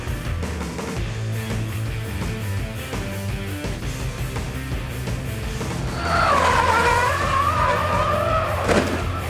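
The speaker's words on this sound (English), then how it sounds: "that's a huge crash, Jack." Formula E electric race car at the fastest corner of a street circuit, tyres squealing in a rising, wavering screech over loud continuous broadcast noise, ending in a sharp impact as it hits the wall.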